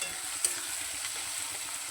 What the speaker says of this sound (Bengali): ভালো করে রসুনটাকে আমি লাল লাল করে ভেজে নেব